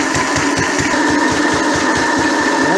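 A Lister D stationary engine idles close by, thumping out a steady, even rhythm of low beats with a constant mechanical hum and rattle over it, loud and with no voices.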